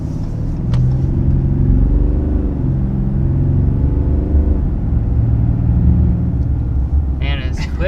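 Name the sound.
2022 RAM 2500 HD turbo diesel truck accelerating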